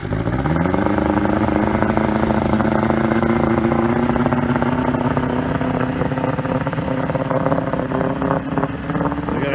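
A Valco jetboat engine runs steadily on the Clearwater River in Alaska, a constant loud drone whose pitch climbs in the first second and then holds even, with water and hull noise beneath.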